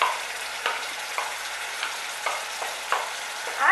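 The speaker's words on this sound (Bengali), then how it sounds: "মশলাটাকে এবার ভালো করে কষে নেব" Ground turmeric, chilli and coriander fry in oil in a pan for a rohu-in-yogurt curry, a continuous sizzle broken by regular scraping strokes of a spoon stirring the masala.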